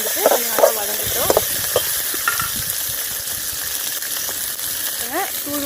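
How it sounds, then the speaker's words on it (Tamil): Onion, garlic and tomato sautéing in a pan for a thutuvalai herbal rasam, a steady close sizzle broken by scraping stirs and light clinks of a spoon against the pan. "வெங்காயம், பூண்டு, தக்காளி இது எல்லாமே வந்துட்டு கொஞ்சம் நல்லா வதங்கட்டும்."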